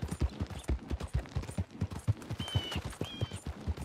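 Steady clip-clop of horse hooves in Red Dead Redemption 2, a fast, even gait of close thuds continuing throughout, with a couple of brief high tones from the game over the rhythm.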